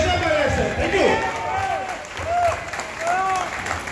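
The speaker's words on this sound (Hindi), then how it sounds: "जोरदार तालियां" A crowd at a speech event in Nagpur breaks into applause, with continuous clapping rising and falling over several seconds while voices call out over it.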